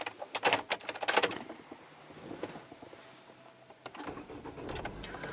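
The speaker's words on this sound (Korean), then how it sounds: "시동 한번 걸어 볼게요" Samsung SM5 New Impression LPG car engine starting from a dial-type key inside the cabin, a quick burst of clicks and cranking followed by the engine settling into a steady low idle, heard close up with no talk.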